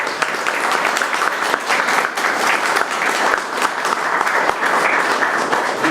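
Sustained applause from an audience at a history talk held at an institute, a dense, even patter of many hands clapping with no voices rising above it.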